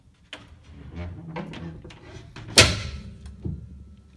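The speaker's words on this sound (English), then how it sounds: "you can hear the squeaky sound is diminishing" The sustain pedal of a Yamaha Eterna piano, being pressed and released after a fix for its squeak, gives soft mechanical clunks and rattles, a sharp metallic snap near the middle and a lighter knock afterward, close up with no voices.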